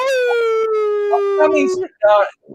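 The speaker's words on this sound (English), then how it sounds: "My dog wants attention." A dog gives one long, loud, sustained howl with a steady falling pitch lasting nearly two seconds, followed by a couple of shorter whining yelps close to the microphone.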